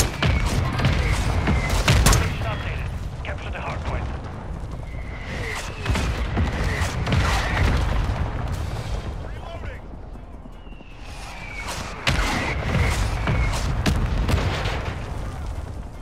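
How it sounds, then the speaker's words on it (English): Mortar strike in Call of Duty Modern Warfare II lands as a run of deep booming thuds and rumbling blasts scattered over sixteen seconds, with game voices and radio chatter heard throughout. "Our mortar strike is inbound."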